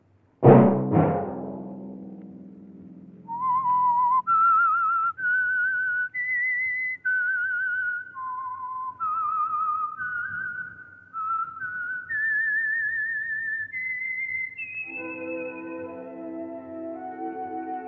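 A bright struck chime rings out, then a lone whistler carries the slow, wandering melody of The Whistler radio program theme, ending as soft orchestral strings swell in beneath.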